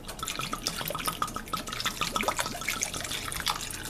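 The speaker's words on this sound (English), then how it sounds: "Now we want 1 cup of this delicious Albarino wine." Albarino wine is poured into a cooking pot over high heat, making a continuous close splashing trickle with no talking.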